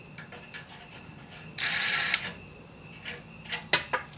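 A ratchet socket wrench tightens a nut during a Holley Sniper fuel injection install, giving a short burst of metallic clicking followed by scattered sharp ticks and clacks nearby.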